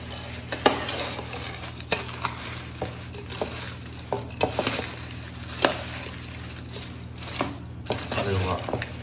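A spoon stirs ragda bhel, a spicy mix of ragda and puffed rice, in a bowl. The steady scraping and tossing runs throughout, with occasional sharp clinks standing out near and clear.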